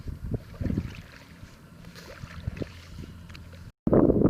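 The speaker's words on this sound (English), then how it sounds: "So there's my brother and my dad kayaking in the tandem." A tandem kayak moves across open water, with irregular splashes and watery knocks from paddle strokes under wind buffeting on the microphone, ending in a sudden loud burst of wind noise.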